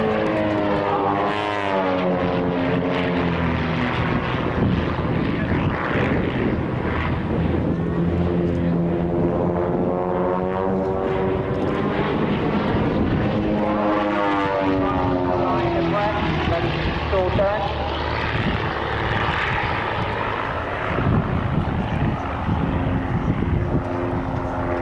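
Pitts S-2B two-seat aerobatic biplanes fly at an RAF Marham airshow, their propeller engines droning steadily and fairly loud, the pitch swelling and sliding as they pass and manoeuvre overhead.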